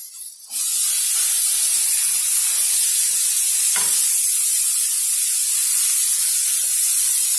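Green peas hitting hot oil with curry leaves set off a loud, steady sizzle that starts abruptly after a brief quiet moment and holds its hiss throughout, with one short stir scrape midway.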